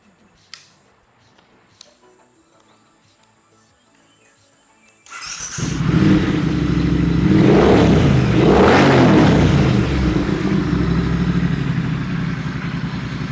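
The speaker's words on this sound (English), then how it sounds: "a bit of a listen to how that exhaust sounds since we've put it on" A Triumph Thruxton motorcycle engine fires up after a few seconds of near silence, then revs loudly and repeatedly through a newly fitted exhaust, its exhaust roaring and crackling close by.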